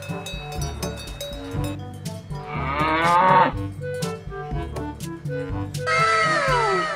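Polka-dot toy cow letting out several loud, drawn-out electronic moos in sequence, each call sliding in pitch, played close with a steady background music-like hum and no talk.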